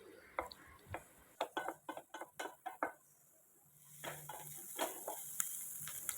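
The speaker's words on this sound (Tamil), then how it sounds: "எண்ணெய் காஞ்சதும் வெங்காயம் சேர்த்து வதக்கலாம்" Onions sautéing in hot oil in a pan, a quick run of sharp stirring clinks and scrapes followed by a soft, rising sizzle, faint and close.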